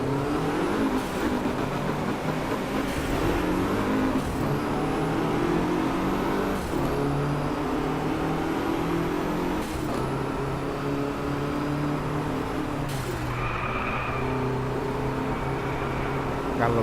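Racing car engines roaring continuously in the Driveclub video game, with sustained engine drone and shifting pitch as cars accelerate, loud and steady throughout.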